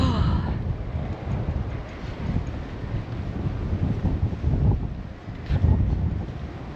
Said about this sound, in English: Oh, I do apologise for this wind.